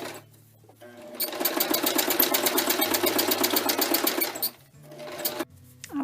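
A sewing machine stitches around the edges of paper planner tabs in one loud, steady run of rapid rhythmic clatter lasting about three seconds, then stops and gives a brief second burst.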